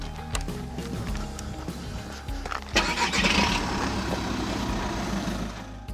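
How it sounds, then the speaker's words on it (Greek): A car engine cranks and catches at close range, with clicks and mechanical clatter before a loud start and then a steady idle drone. "Αν μπορείς κάνε το αμάξι στην άκρη, Γιώργο."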